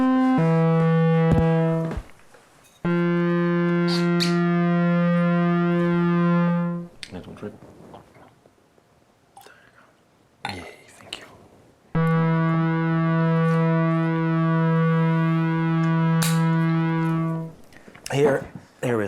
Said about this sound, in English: It was the what do you call it? The phase distortion.